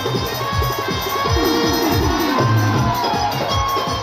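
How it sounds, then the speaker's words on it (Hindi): Crowd at a stage show in Ballia cheering and clapping loudly and continuously, dense shouts and whoops over a steady rhythmic beat of music. "जोरदार पर तालियां होनी चाहिए"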